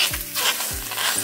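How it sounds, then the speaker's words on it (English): Chicken sizzles as it fries without oil in a Saladmaster pan, a steady bright crackle with two or three low scraping stirs of the utensil. "Just frying in there with no oil."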